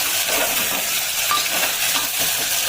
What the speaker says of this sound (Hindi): देन तापरे मैं ऐड करबी कटाई थिबा पियाज और कंचा लंका। पियाज को मध्य आपण टिके फ्राई माने ब्राउन नि खेला करना टिके भाजिबे।